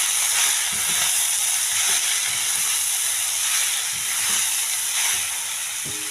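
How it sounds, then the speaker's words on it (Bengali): Leafy greens and two green chillies frying with garlic in hot oil, a steady bright hiss and sizzle with soft crackles and light stirring knocks, no talk. "রসুনটা ভাজা হয়ে গেছে, শাক দিয়ে দিচ্ছি। শাকের সাথে দুটো কাঁচা লঙ্কাও দিয়েছি।"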